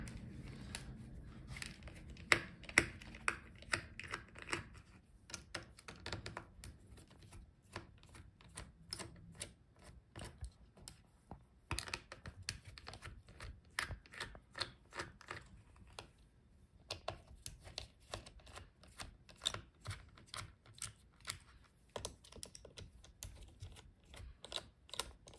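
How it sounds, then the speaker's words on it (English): Screws being undone on a Lenovo Legion 7 laptop to free the heatsink: dense runs of tiny sharp clicks and ticks, close but faint, continuing steadily with brief pauses and no talk. "Let's unscrew all the screws."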